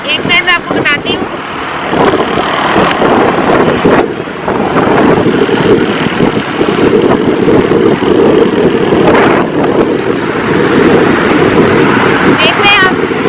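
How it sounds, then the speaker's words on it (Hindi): Cold night wind blows steadily across a quiet street, a constant loud rush filling the whole stretch with brief chirping sounds near the start and end. "बहुत ठंडी हवा चल रही है।"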